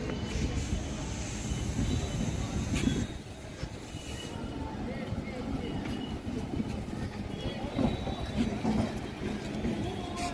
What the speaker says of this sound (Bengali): গোঘাট হাওড়া লোকাল 1 নম্বর প্ল্যাটফর্মে ঢুকছে।